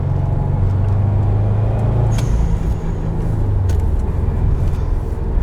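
A 2016 Subaru WRX STI accelerating out of corners on twisty roads, a loud steady engine drone with rising and falling pitch and road rumble, heard from inside the car.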